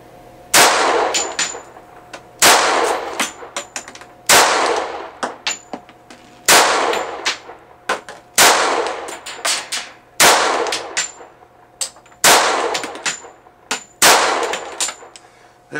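RIA 1911 pistol fired from inside a house: eight sharp, loud gunshots at steady intervals of about two seconds, each followed by a short ringing echo off the room.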